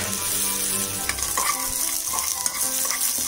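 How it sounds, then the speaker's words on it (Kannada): Peanuts roasting in a pan over a low flame, with chillies and oil, give a continuous soft sizzle under a few close scrapes and clinks of stirring, with no talking. "ಒಂದು 5 ನಿಮಿಷ ಲೋ ಫ್ಲೇಮಲ್ಲೇ ರೋಸ್ಟ್ ಮಾಡ್ಕೋಬೇಕು ಕಡಲೆ ಬೀಜನ"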